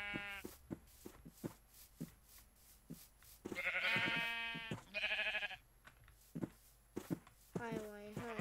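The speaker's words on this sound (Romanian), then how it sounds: "Oaie, oaie, trebuie oaie." Sheep bleat in the Minecraft video game, several wavering in-game baas heard close and clear, with someone talking quietly in between.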